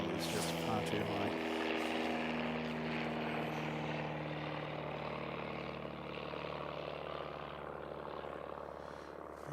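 A Kiwi aircraft passes high over the Harewood Road mound in Christchurch, its engines a continuous broad drone that fades slowly. Someone talks over the engine noise.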